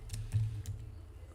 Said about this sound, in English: I'm typing it under file.